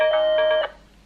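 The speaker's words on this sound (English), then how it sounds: "House phone's ringing." A house phone rings indoors with a bright electronic trill, several quick pulsed tones in one burst that stop abruptly, close and clear with no talking.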